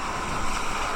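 Sea waves wash onto the shore at Pico de Loro beach on a drizzly day. A steady, broadband rush of surf fills the brief moment, with wind buffeting the microphone, and no one speaks.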